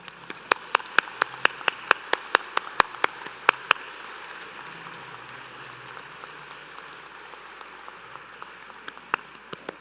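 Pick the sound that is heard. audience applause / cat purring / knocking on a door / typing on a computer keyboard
audience applause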